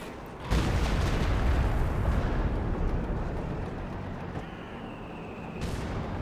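Siege barrage artillery fire in Company of Heroes 2 opens with a sudden heavy blast. A long rumbling roll of explosions follows and slowly fades, with a faint whistle later on and no talk.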